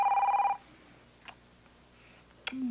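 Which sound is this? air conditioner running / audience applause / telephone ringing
telephone ringing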